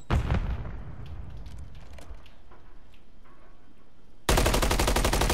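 Gunfire and explosions from a video game shooter, a dense roar of shots and blasts at the start, then steady background battle noise, ending with a loud, rapid sustained burst of automatic fire.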